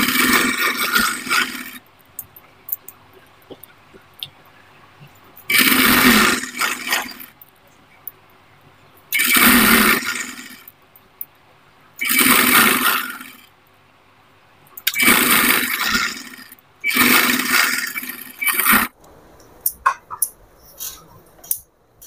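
A sewing machine stitches a pinned petticoat seam with a half-inch margin, running in about six loud whirring bursts of a few seconds each, separated by short silent pauses.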